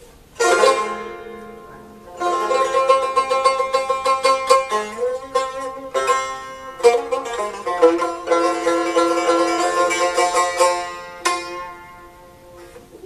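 A bright plucked Azerbaijani tar plays rapid ringing phrases and strummed flourishes, loud and resonant, with short pauses between runs and no talking.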